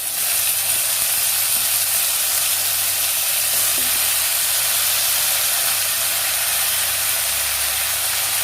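Anchovies hit a hot pan and set off a loud, steady, broadband sizzle that holds evenly throughout with no voices over it.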